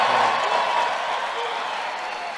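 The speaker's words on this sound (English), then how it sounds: "Give them a big hand." A large rally crowd in Las Vegas, Nevada applauds and cheers for a gold medal team, a steady dense wash of clapping that fills the whole moment and slowly eases off.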